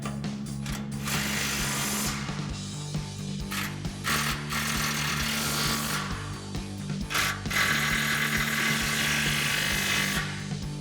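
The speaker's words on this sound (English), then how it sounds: "Now we can tighten down all of our flange bolts with our 14 mil socket on our impact." Impact wrench fitted with a 14 mm socket tightening exhaust flange bolts on a Toyota Tundra while installing an aFe Mach Force-XP 3-inch single exhaust; a steady loud mechanical rattle and whir runs throughout, with no talking.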